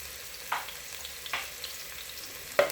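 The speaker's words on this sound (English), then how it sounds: "These are going to cook for about a minute with the garlic." Chopped onions and grated garlic fry quietly in a pan for vegetable rice. A soft, steady sizzle is broken by three light utensil taps, heard close and with no voices.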